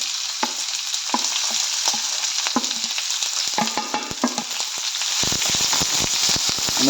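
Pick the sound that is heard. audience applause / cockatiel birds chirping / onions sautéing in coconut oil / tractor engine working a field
onions sautéing in coconut oil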